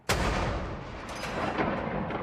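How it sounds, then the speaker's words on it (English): A ceremonial 41-gun artillery salute for King Charles III's proclamation booms out in a single loud, sharp blast, followed by a sustained rumbling roar and echoing reports that rise again near the end, heard from fairly close with no talking. "41 gun salutes across Charles' kingdom"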